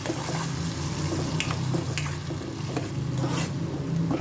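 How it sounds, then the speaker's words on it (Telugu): A prepared tomato mixture for tomato rice made with leftover rice goes into a hot pan and sizzles in a dense, continuous hiss with several brief bursts of crackle. "మనం కొంచెం ముందుగా ప్రిపేర్ చేసి పెట్టుకున్న టమాటా మిశ్రమాన్ని తీసుకొచ్చి యాడ్ చేయండి"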